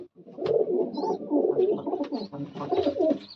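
Pigeons coo softly and repeatedly at close range, a steady series of low throaty calls with a few faint higher chirps mixed in, with no talking.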